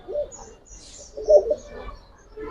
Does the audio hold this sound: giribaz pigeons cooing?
yes